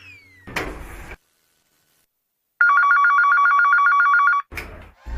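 A telephone rings in a rhythmic electronic trill for about two seconds, loud and close, set between brief bursts of other noise and a stretch of silence.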